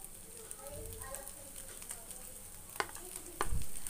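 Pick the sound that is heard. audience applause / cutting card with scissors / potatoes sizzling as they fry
potatoes sizzling as they fry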